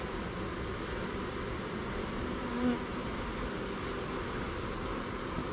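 A dense, steady drone of many buzzing honey bees in a tree fills the space, continuous and even, with no voices.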